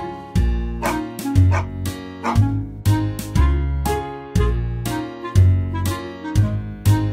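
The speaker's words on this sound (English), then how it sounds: "I hear a dog, dog, dog, dog, dog. I hear a dog." A dog barks in a steady series of repeated bow-wow calls, loud and close, set against bouncy children's-song music with a strong rhythmic beat.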